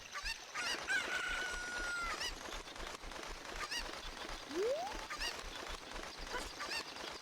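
A cucco chicken crows loudly in Zelda: Ocarina of Time along Zora's River, with a drawn-out cry early on and another rising squawk later, over a bed of light game ambience.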